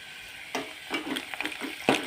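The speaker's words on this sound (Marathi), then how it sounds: "आता हे कांदा शिजायला लागलाय बघा. आता कांदा टाकलाय" Onion fries in a pan with faint, scattered crackles and soft sizzling pops, close by, with no talking.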